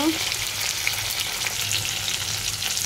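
Fish shallow-frying in a pan gives a loud, continuous crackling sizzle with no talk over it.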